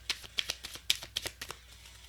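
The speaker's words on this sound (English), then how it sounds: "I'm just going to go ahead and shuffle like all 3 decks." Three oracle card decks being shuffled by hand, a close run of crisp riffling snaps and soft card flutters in an irregular rhythm, with no talking.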